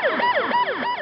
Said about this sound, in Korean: 그 사이 구급차가 도착했다.